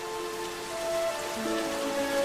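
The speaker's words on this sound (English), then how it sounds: "I've been enjoying the rain." Steady rain falling with a broad hiss, alongside faint sustained tonal lines such as background music; no talking.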